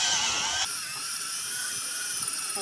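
Drill boring a deep hole in a long hard steel bolt, a high steady whine that shifts pitch abruptly early on and then holds, fairly loud and close, with no talking.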